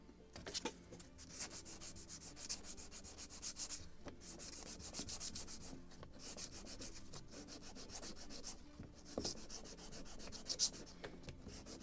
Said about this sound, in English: So just slight sanding,